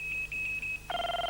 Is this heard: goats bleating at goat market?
no